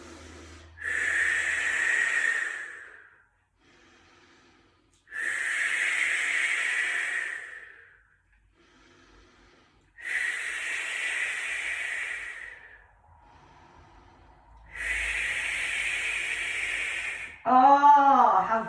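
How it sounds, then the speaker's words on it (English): Slow, deep breathing in a Pilates class: four long airy exhalations about five seconds apart with quiet gaps between them, close and clear, then a short voiced sound at the end. "just by breathing deeply, let's all do that together. Inhale."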